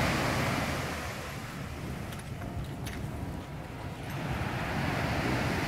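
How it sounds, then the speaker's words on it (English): Ocean surf at Jomtien Beach in Thailand washes in a steady, broad roar of breaking waves, with wind buffeting the microphone throughout and no voices. "sound of the ocean."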